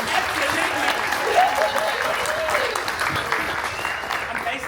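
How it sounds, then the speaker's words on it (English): Audience clapping steadily for a panel discussion at an event, a dense continuous patter that carries at an even level, with faint voices mixed underneath. "give it a good clap"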